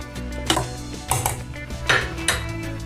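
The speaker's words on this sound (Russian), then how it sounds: "И очень-очень хорошо размешиваем." A metal spoon stirring melted processed cheese into a creamy soup in a pot, scraping and clinking against the sides in several distinct strokes, close up with no talking.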